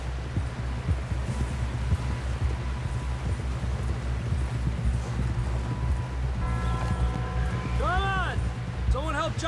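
Horse hooves clop steadily through a Red Dead Redemption 2 ride over a low rumbling game soundscape, with voices talking throughout and a brief higher whinny-like call near the end.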